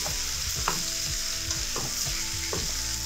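Chopped, peeled pumpkin pieces drop into a simmering pot of Trinidadian cow heel soup, giving several soft thuds and stirring knocks over a steady bubbling sizzle, with no voices.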